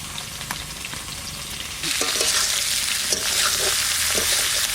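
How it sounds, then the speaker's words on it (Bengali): Cauliflower frying in a pan over a low flame, a steady close hiss that swells louder partway through, with scattered stirring scrapes and faint crackles under it and no voices. "হালকা জাল দিয়ে নেড়ে চেড়ে একটু লাল লাল করে ভেজে নেব"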